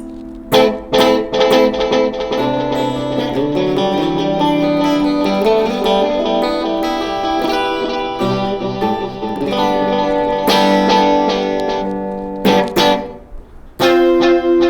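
Electric guitar played through an Ernie Ball Ambient Delay pedal, with loud strummed chords and ringing notes smeared by delay repeats, and sharp percussive strums near the start and end.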